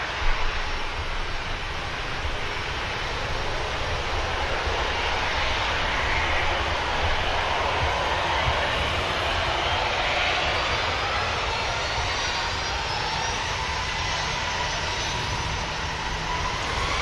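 A Ryanair airliner passes at Manchester Airport, its steady broadband jet roar filling the scene at constant loudness with no talk, a faint whine drifting through the upper register.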